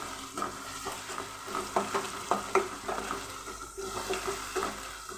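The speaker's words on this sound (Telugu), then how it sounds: "అల్లం కూడా మంచిగా ఫ్రై కావాలి." Ginger frying with onions and chillies in a pan, a close sizzle with rhythmic stirring scrapes and clinks against the metal, no talk.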